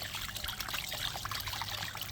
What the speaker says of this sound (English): Don't be scared to fill your pan right up with water.